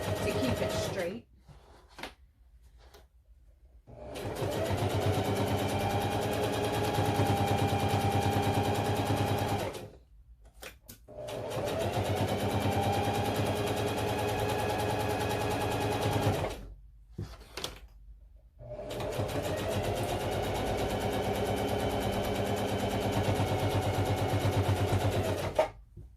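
A sewing machine stitches around the edge of a lap blanket in three long, steady runs of fast mechanical rattle, separated by short pauses with soft handling clicks, close and clear.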